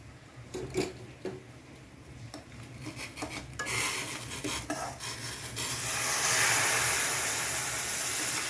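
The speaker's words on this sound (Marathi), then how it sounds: "आपण रव्यासाठी त्याच्यात घालायला पाणी ठेवलेलं आहे उकळायला दोन वाट्या तर ते आता आपण घालून घेऊया" Two cups of boiling water pour into roasted semolina for mango sanja roti, a steady hissing, sizzling rush that swells loud after a few faint scraping stirs and holds to the end.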